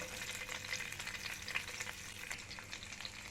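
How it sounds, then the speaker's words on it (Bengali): Two large chopped onions fry in oil reused from earlier frying for Chinese restaurant-style chicken manchurian, giving a steady, dense sizzle with faint stirring scrapes throughout and no voices. "একই তেলে আমি দিয়ে দিচ্ছি টুকরো করে কাটা দুটো বড় সাইজের পেঁয়াজ,"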